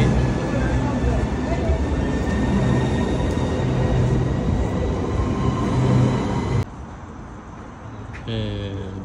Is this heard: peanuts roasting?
no